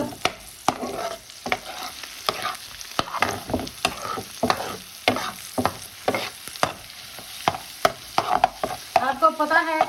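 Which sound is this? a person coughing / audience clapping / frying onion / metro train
frying onion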